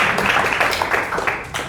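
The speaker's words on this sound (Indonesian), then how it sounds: "Tepuk tangan." Classroom clapping from students after a reading in a lesson, a brisk burst of many small hands close by, fairly loud and fading slightly at the end, with no voices over it.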